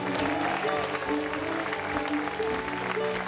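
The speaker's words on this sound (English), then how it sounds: "Let's give them all a round of applause, please." A festival audience at a closing set applauds the sound crew, a brief, loud burst of clapping with a sustained musical tone beneath it.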